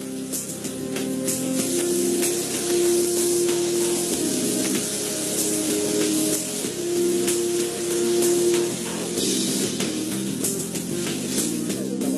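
A high-powered blowtorch with an extra wide nozzle roars with a loud, steady, rushing hiss that holds without a break for about twelve seconds.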